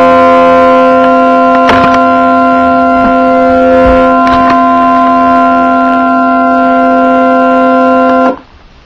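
A steady synthesized siren tone built in Audacity, with strong stable harmonics holding loud and constant for about eight seconds, broken by a few faint clicks, then cutting off abruptly.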